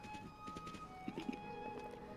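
Horse hooves clip-clop in Zelda: Breath of the Wild, faint, quick, uneven taps over a quiet game backdrop with sustained tonal music, a couple of sharper hoof hits standing out midway.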